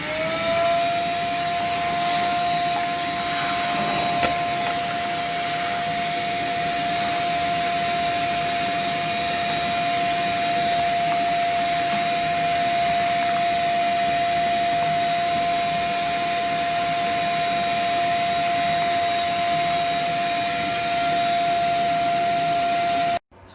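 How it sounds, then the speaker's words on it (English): A vacuum cleaner roars steadily and loudly for a long stretch while sucking dust out of a 1949 table saw being rebuilt, its whine holding a constant pitch until it cuts off abruptly at the end. "now a quick work over with a vacuum and a brush, and we'll get some of this dust out of here"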